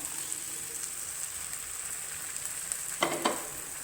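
An onion and spice mixture sautéing in a pan for egg poriyal, a constant light sizzle with a couple of quick spoon scrapes near the end, close by.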